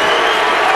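A college basketball crowd at an NCAA tournament second-round game between Wisconsin and Maryland applauds a player's effort, a dense, loud wash of clapping and cheering heard briefly.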